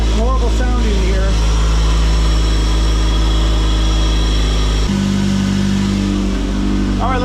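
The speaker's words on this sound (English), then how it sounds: "My power steering pump is going. That's that horrible sound in here." A running 2005 Ford Focus engine with a failing power steering pump gives a steady, close, harsh drone with a raspy whine layered in, while someone talks over it.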